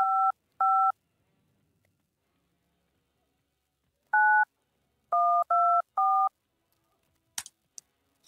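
Telephone keypad dialing tones in the horror video game Babysitter Bloodbath: two quick beeps, a pause, then a single beep and a rapid run of three more, loud and clear with no talk over them.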